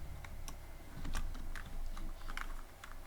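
Typing on a computer keyboard while coding a Pong game in Python: a quick, irregular run of light key clicks, close and moderately loud over a faint background hum, with no talking.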